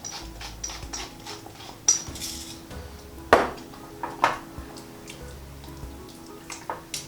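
Salt and pepper being stirred into a simmering vegan lentil bolognese sauce: sporadic light clinks and scrapes of a spoon against the pot, fairly faint and close, with no talking.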